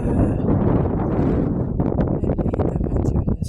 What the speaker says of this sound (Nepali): अहिले चाहिँ कति धेरै हावा चलेको छ।